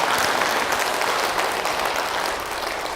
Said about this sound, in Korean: 그때는 좀 박수를 좀 치야지